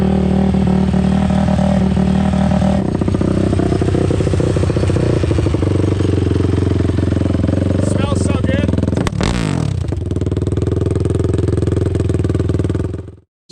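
A TRX quad engine drones loudly and close, revving and shifting pitch while riding on dirt, with clattering bursts and a sharp rising rev near the middle before it cuts out at the end; talking is mixed in.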